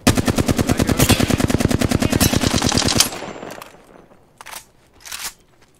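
Rapid automatic gunfire from the Apex Legends video game rattles loud and steady for about three seconds in an even rhythm, then cuts off, followed by two faint whooshing bursts.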